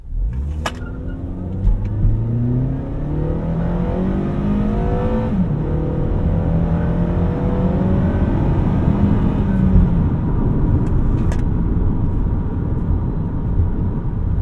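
A 2013 Acura TSX Wagon accelerates hard from a standstill, heard from inside the cabin. The engine drone climbs steadily in pitch through the gears with brief dips at the shifts, loud and continuous.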